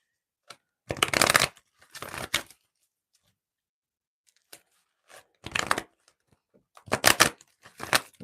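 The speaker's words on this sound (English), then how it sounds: "Let me get one more shuffle because I reset all of my cards yesterday." Close, crisp riffle shuffles of tarot cards in several separate bursts, each a quick flurry of rapid slaps, with quiet pauses between.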